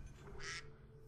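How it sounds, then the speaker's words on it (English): A single nasal duck quack, close and clear, serves as a timer alarm and sounds over faint game background noise during play of Dead Space 1. "Okay, so the timer's done. The duck has sounded."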